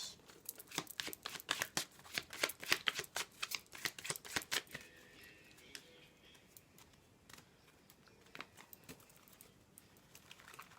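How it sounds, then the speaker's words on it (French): A deck of cards being shuffled by hand, a dense flurry of crisp riffling flicks for about five seconds, then sparser, softer card taps and rustles, close and quiet with no talking. "je vais mélanger les cartes"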